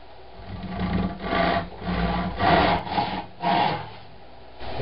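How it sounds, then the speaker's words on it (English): A crosscut hand saw cuts through a wooden board in a woodworking shop, with a steady rhythm of about six rasping push strokes, close and moderately loud, with no talk. "And I'll take my crosscut saw."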